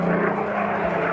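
A Supermarine Spitfire PR Mark 19 with its 2,000-plus horsepower Griffon engine passes at an air show, a loud, steady propeller-engine roar sustained throughout with no talk.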